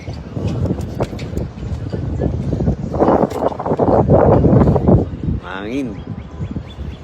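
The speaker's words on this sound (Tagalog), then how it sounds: "Mahangin." Gusty wind buffets the microphone in rough bursts while people talk nearby at Schoellkopf Power Station; a bird chirps briefly near the end.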